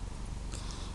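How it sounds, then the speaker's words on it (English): A cat purrs close to the microphone, a soft, continuous low rumble with no voices over it during the brief moment. "that was my cat."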